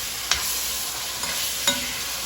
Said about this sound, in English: So we are letting it cook. Let the seasoning cook.